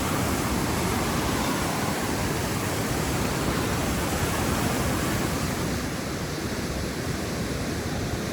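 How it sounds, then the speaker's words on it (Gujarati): Loud, steady roar of rushing water filling the whole clip without a break, broad and close, a strong flow pouring through a Narmada canal channel at Bodeli. "કેટલું ખતરનાક પાણીનો અવાજ આવે છે."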